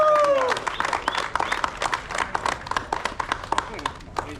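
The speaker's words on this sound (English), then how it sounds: "Big clap for them." An audience at a tournament presentation ceremony claps for the competing teams, a scattered patter of hands close by. A voice carries over the clapping.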